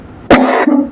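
A single sharp cough bursts out, close and loud, followed by a short throat-clearing rasp; no one speaks.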